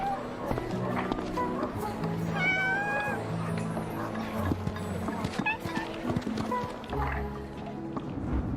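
A cat meows several times amid a busy mix of voices and game sounds, the short high cries rising above the chatter near the middle.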